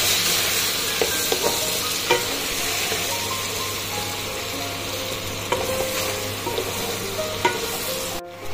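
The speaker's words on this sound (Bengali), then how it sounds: "মশলা কষানোর জন্য একটু জল অ্যাড করলাম যাতে গায়ে লেগে না যায়।" Spice masala stir-fried with a splash of water for dahi parwal, a steady close sizzle throughout with occasional soft scraping taps of a spatula against the pan.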